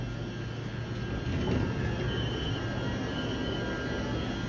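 An Auckland commuter train rumbling at Newmarket station, a steady low rolling roar with a faint high whine held throughout, fairly close and unbroken.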